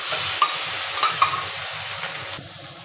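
Cumin, ginger and garlic paste frying in a pan with onion, a loud steady sizzle with a few scraping stirs, cutting off sharply near the end to a quieter hiss.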